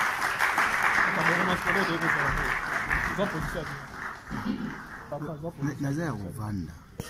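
Applause from an audience welcoming a politician to the podium at a Congolese party event, clapping running under a voice as he talks over it, fading toward the end.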